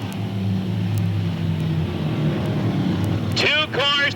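Sportsman race cars rumble around a short race track through the turns, a steady loud low engine drone throughout, with a voice speaking briefly near the end.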